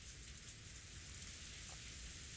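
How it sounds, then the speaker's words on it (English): Heavy rain from the video game Higurashi When They Cry, pouring steadily, a dense continuous hiss of drops with a low rumble beneath, unbroken from start to end. "The sound of heavy rain plays."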